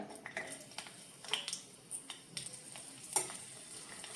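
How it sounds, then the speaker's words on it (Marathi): Garlic frying in a little oil for a Konkani-style methi (fenugreek) dish, with soft crackling sizzle and a few sharp clicks of a spoon scraping the pan, fairly quiet and close, no voices. "आता तितून थोडेशे तेल घालून घ्या। आता मी हितून लसूण घालून घ्या।"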